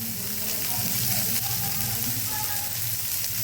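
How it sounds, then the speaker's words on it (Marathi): Onion dropped into pan-roasted garlic for khichdi, giving a loud, continuous close-up sizzle of frying that stays even throughout, with a voice faintly heard over it. "चांगलं भाजल्यानंतर त्यात कांदा टाकायचा।"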